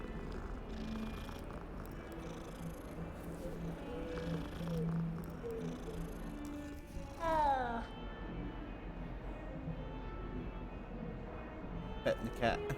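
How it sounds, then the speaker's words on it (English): A cat in Hogwarts Legacy gives a short rising meow, then a second brief call near the end, over game music and ambience; a voice talks through much of it. "Kitty cat."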